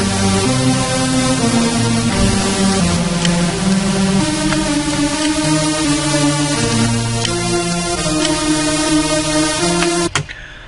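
Two layered synth leads from a trance track play a dense sustained melody together, bright and buzzy over a steady loud bed, cutting off sharply near the end.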